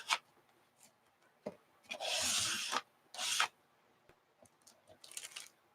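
Paint being scraped across paper with a scraper tool at a paint party: a couple of loud, sustained rasping strokes, with lighter scratchy scrapes before and after, close up and without talk.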